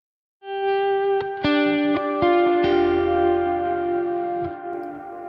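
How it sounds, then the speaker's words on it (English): Guitar played through a modeller with the delay effect's mix set fully wet, giving sustained picked notes and chords that smear into repeating, reverberant echoes, loud and alone, with no talking. "boost the mix on full, so we're just hearing the delayed full mix version"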